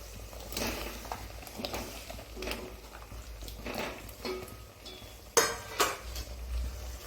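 Peeled, chopped pumpkin pieces drop into a cooking pot for a Kerala olan: soft, scattered thuds and light clatter of pieces hitting metal, with a couple of sharper clanks near the end.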